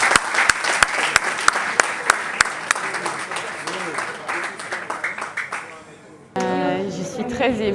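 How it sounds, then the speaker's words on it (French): Audience applause at a film festival in Pointe-Noire, sharp, scattered claps over a dense crowd wash, fading briefly before a burst of music with singing takes over. "Est-ce qu'on peut applaudir, s'il vous plaît?"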